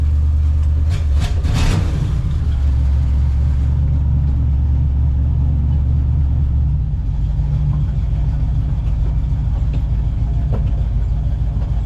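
A 1966 Chevy C10 pickup's engine, revived after sitting over three years, runs steadily during a test drive with limited brakes, a loud, continuous low rumble with a brief rattling burst near the start.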